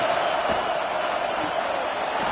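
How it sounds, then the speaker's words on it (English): Crowd noise at a college football stadium during a Arkansas home game, a broad steady roar of many voices that holds at an even level for the whole stretch. "this crowd trying to help keep them there"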